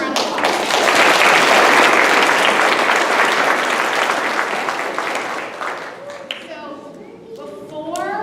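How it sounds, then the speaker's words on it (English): Loud applause from a school audience greeting a school district superintendent, a dense burst of many hands clapping that fades over several seconds as a few children's voices come through near the end. "Let's give him a round of applause."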